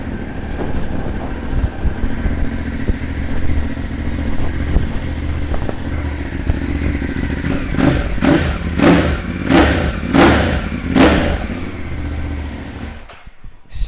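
A 2016 Ducati Hypermotard 939 with a full Termignoni exhaust system idles with a steady rumble, then gives about five sharp, loud revs in quick succession before cutting off.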